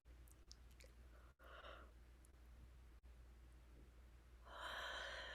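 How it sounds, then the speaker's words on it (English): A single person yawns at close range, a drawn-out breathy stretch rising near the end after a few faint breaths and small mouth sounds in an otherwise quiet room. "It makes you yawn."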